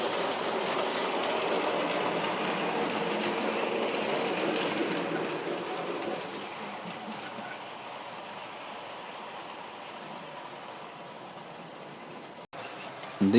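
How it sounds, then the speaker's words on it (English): A model train of ex-LMS coaches on a layout runs steadily with a faint high-pitched squeak from a wheel on one coach, over a continuous low rolling rumble, no talk. "There's a squeaky wheel somewhere on this train."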